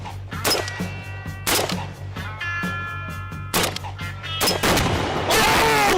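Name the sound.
gunshots from someone shooting a gun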